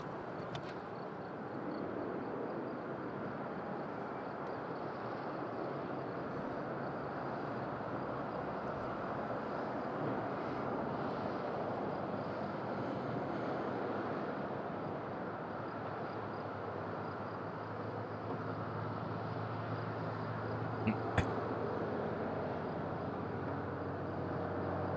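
Airliners at windy Madeira Island airport, a Transavia Boeing 737-800 and a TAP Air Portugal A330, give off a faint, distant, steady engine drone mixed with wind, with a brief sharp click near the end.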